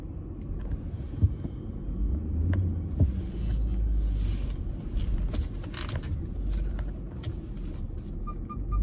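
Low engine rumble of a car being driven, steady and close as from inside the cabin, with occasional faint knocks and clicks over the hum.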